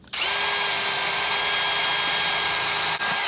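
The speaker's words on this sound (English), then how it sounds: "half inch drill bit okay so that hole one hole is done another hole here" Power drill with a half-inch bit bores a hole into a wall to mount a grab bar, a loud, steady high-pitched whine that starts abruptly and runs nearly unbroken, with a brief dip near the end.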